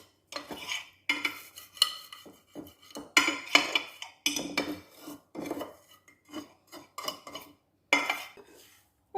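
Repeated scraping of a utensil against a plate, scraping out homemade sea salt after microwave drying, in short bursts, close and distinct, with brief pauses between strokes and no talking.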